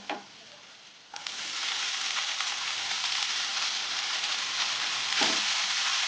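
Spinach tossed into a pan of cumin and deeply fried garlic for dhaba-style lasuni palak: a soft clink, then a loud, steady sizzling hiss that holds with brief stirring accents.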